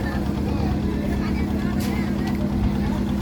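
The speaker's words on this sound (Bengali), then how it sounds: "এই বোটটা ছেড়ে যাচ্ছে সুন্দরবন ভ্রমণের জন্যে" Boat setting off on a Sundarbans trip, its engine giving a steady low droning hum with water wash, while a voice speaks over it.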